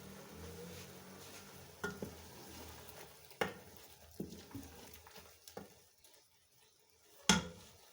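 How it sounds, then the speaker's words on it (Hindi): Tomatoes sizzle quietly in a pan while a utensil scrapes and stirs them, with a few sharper clinks and knocks against the pan and no voices. "अब ये टमाटर ज़रा खुश्क हों, फिर अच्छे तरीके से भून जाएंगे।"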